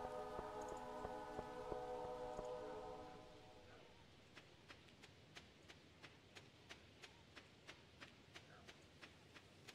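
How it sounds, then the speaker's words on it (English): A train passes in Stardew Valley after the 1.6 update: a low rumbling whistle-like chord for the first few seconds, then a long steady run of evenly spaced clacks as the cars roll by, moderately loud with faint background. "Train's passing."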